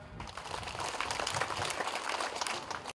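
Audience applause at a Baptist women's church gathering in Lanny Jaya, West Papua, a steady wash of many hands clapping that fills the whole stretch at moderate loudness, with no voices over it.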